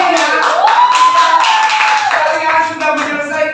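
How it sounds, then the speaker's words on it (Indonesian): Classroom of students clapping together, fairly loud and close, with a voice sounding over the clapping throughout. "Oke, tepuk tangan untuk kalian."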